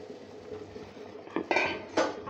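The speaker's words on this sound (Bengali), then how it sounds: "এবার এটা আমি ঢেকে দিচ্ছি" A lid goes onto a cooking pot holding pumpkin chhakka with water and greens, giving a few sharp metallic clinks and knocks over a quiet kitchen background.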